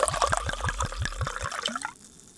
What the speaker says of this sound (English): Here's a pour, folks.